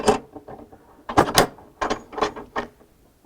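A Rultract surgical retractor clamp is tightened down over a surgical drape in an operating room, giving close, sharp mechanical clicks and ratcheting bursts in quick irregular clusters.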